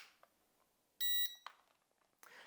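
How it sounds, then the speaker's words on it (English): A single loud electronic beep from a drone controller lasting about a quarter second, followed by faint clicks and handling noise. "You will hear a beep and the lights will continuously flash on the drone."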